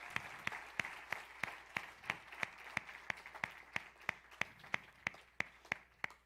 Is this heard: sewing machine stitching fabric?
no